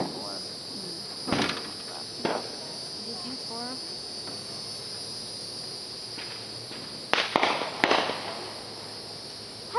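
Firecrackers and small fireworks set off outdoors near a pool pop and crackle in short bursts, with crickets chirping steadily in the background and faint voices.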